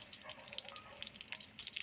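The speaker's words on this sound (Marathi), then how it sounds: "तेल चांगले गरम झाले की लसूण घालून घ्यायचा कढीपत्ता घालून घ्यायचा राई जिऱ्याची फोडणी देऊन घ्यायची" Quiet crackling and popping of garlic, curry leaves, mustard seeds and cumin sizzling in hot oil, a continuous busy spatter heard up close.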